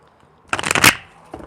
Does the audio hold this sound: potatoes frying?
no